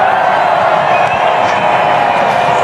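Dense, continuous roar of a sellout cricket stadium crowd at an India vs Ireland T20 match, loud and steady with a broad wash of cheering and no distinct claps.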